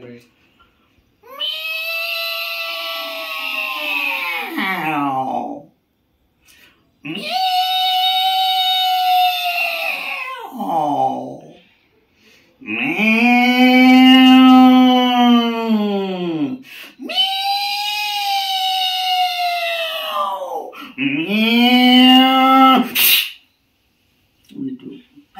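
A voice imitates two cats fighting, with long drawn-out tomcat yowls in five loud, close, wavering bursts, each lasting several seconds and separated by brief silences.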